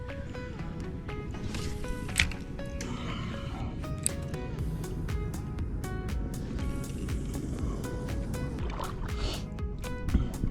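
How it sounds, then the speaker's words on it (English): Paddle strokes from a kayak on park water, with soft splashes, drips and small knocks against the hull repeating at close range over a constant low wash, no voices. "This is my first time kayaking in this park."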